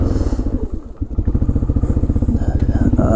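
A 1996 Arctic Cat 454 Bearcat 4x4 ATV engine runs close by with a loud, rapid, evenly pulsing single-cylinder thump, dipping briefly near one second and then chugging steadily on.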